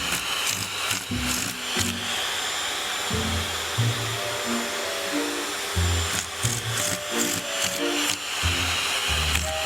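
A vacuum cleaner runs near a cat with a loud, steady whooshing roar, broken by low thuds and bumps as it moves around. No one speaks.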